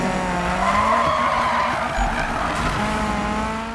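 Tires squeal in a long sustained skid as a car drifts in Need For Speed 2015, with the engine droning steadily underneath, loud and continuous throughout.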